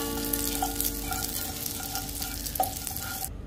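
Butter sizzles steadily in a hot pan for a pancake batter, a constant frying hiss with faint stirring scrapes, close and alone, cutting off abruptly near the end.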